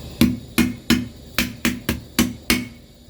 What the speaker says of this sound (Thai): ไคร้ก็ทุบหน่อยนึง